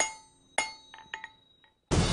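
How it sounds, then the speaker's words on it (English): A hammer strikes iron heated to about 1900 degrees, making several sharp, ringing metallic clinks in an uneven rhythm, followed by a sudden loud burst of broadband noise. "So I can take the hammer and drive it into whatever shape I need."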